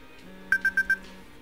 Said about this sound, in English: Oops, that's a timer.